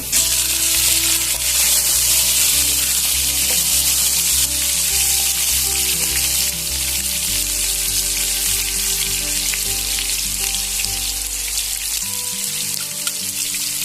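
Tomato hits hot oil already frying bay leaf, cardamom and cinnamon, producing a loud, steady crackling sizzle that continues strongly, with background music playing underneath.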